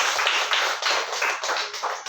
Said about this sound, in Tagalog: Malakas na palakpak sa ating Diyos na buhay.